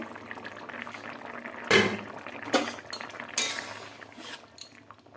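A metal lid is set onto a cooking pot of fish and potato curry, giving a few close clanks and scrapes over a low background of simmering.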